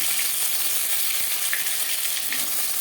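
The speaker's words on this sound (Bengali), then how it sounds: "মাছ এক পাশ ভাজা হয়ে গেছে অপর পাশ উল্টে গেল" Koi fish, flipped to its other side, frying in oil makes a dense, steady sizzle that fills the short stretch, close and fairly loud with no talking.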